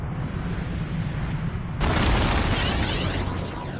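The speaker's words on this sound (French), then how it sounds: "une explosion retentit au-dessus de la lointaine forêt sibérienne, sur les bords de la Tunguska" Tunguska meteor exploding in the air over remote Siberian forest: a loud, sustained roaring blast that rises sharply partway through into a broad, thunderous rumble, with no voices.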